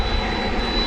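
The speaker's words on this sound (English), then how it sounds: "This is the A300 poised to take off, and it is now moving on its way to Chicago Rockford International Airport." UPS Airbus A300 jet engines spooling as the aircraft prepares for takeoff at night at DFW Airport, a loud, steady, close roar filling the short moment without a break.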